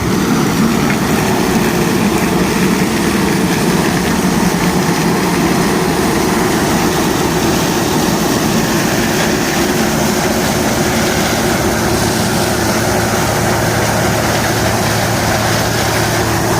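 Loud, continuous mechanical roar of a combine harvester threshing corn, running steadily with a dense grinding rumble and no pauses throughout.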